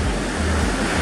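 Surf on the Sea of Japan on a winter morning as the sea calms, a dense, loud, steady wash of breaking waves with a light offshore wind and no voices.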